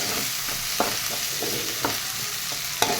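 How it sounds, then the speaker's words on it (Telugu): Green chilli paste frying with ginger and shallot paste for a green chilli mutton fry, a dense continuous sizzle with a few sharp spoon clicks against the pan, no talking. "ఇప్పుడు పచ్చిమిరపకాయ పేస్ట్ వేసుకుందాం మనం. ఇవి మనకి ఎక్కువ వేగన అవసరం లేదండి, ఒక 2 నిమిషాలు ఫ్రై అయితే చాలు."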